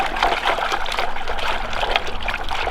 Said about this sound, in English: Let's give it a little wash.